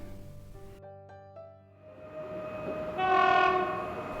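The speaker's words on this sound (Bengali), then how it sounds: "এত রাত্রে এটা কোন ট্রেন?" A train passes with a sustained, rising horn blast, starting from a low tonal rumble and swelling into a loud, harmonic-rich horn about three seconds in, heard alone as a sound effect.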